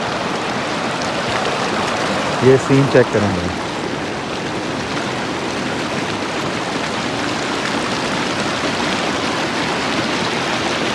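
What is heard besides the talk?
glacier meltwater stream flowing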